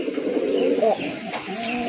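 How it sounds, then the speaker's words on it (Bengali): A large black male pigeon coos close by in a pigeon market, giving a short, throaty rolling call over a low background murmur. "আর নর ডাক দেখেন"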